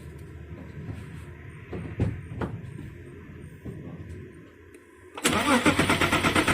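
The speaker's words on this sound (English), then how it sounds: "I'm gonna shut it down and start it up and see what it do." An Audi Q7 whose engine cranks only when cold and then stalls is started up. Near, uneven cranking and clunks come first, then the engine catches and settles into a loud, steady idle.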